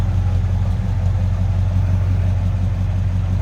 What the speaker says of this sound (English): Flatty sounds good. No crazy exhaust, nothing too loud, obnoxious, anything like that.